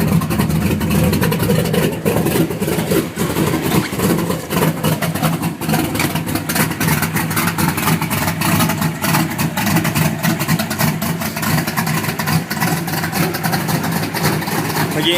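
A car with a Hurst quarter-stick shifter idles steadily after a cold start, a loud continuous engine rumble running throughout while warming up outdoors, with someone talking over it at times.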